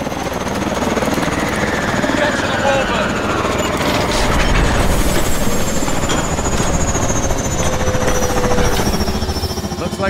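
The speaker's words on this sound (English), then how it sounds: "Get to the chopper!" A military helicopter in the Call of Duty: Advanced Warfare video game roars steadily and loudly for the whole stretch, its dense rotor chop and engine whine filling the scene without letup.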